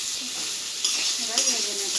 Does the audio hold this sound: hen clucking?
no